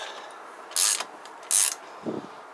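Two quick bursts of ratchet clicking as the shock bolts on a Kawasaki GPZ500S motorcycle are worked, each about a quarter second long, close and crisp, with a soft low knock afterward and no talk.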